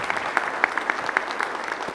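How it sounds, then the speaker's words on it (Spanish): A conference audience gives a brief round of applause, an even patter of clapping with a few sharper claps standing out, moderately distant and without talk. "le damos un aplauso grande a Roberto"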